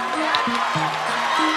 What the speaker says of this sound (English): Wow, the crowd is really upset